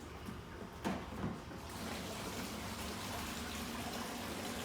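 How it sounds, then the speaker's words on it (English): Water drains from the hoppers of a Bunn Ultra 2 coffee brewer during cleaning, a steady close gushing flow with a brief knock near the start, alone without talk. "Let's drain hoppers."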